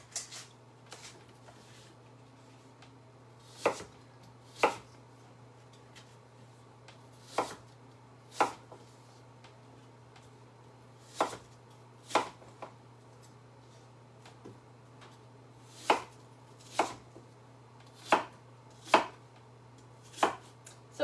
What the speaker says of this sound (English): Chop into 1 inch to 2 inch pieces and place in a mixing bowl.